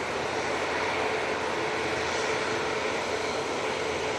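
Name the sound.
airplane with Rolls-Royce engines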